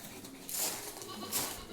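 Two Malabari goat kids bleat faintly twice, short high cries over a quiet background.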